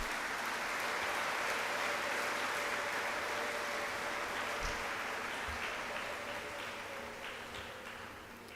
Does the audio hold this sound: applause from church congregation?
yes